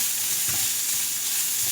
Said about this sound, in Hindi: इसको भी हम थोड़ा सा भूनेंगे